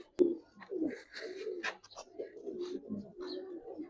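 Silver Giribaz pigeons, an old breed, coo in soft throaty bursts close by, with a sharp flap or knock at the start and people talking faintly in the background.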